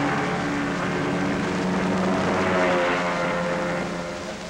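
A continuous loud engine roar drones throughout, vintage Mercury outboard motorboats racing past around a bend without pause, fading slightly at the end.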